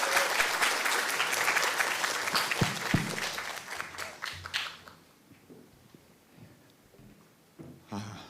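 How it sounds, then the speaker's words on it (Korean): Audience at a university semester-opening Mass applauding, dense clapping for about four seconds, then tapering to scattered claps and fading. "우리 큰 박수로 모시겠습니다."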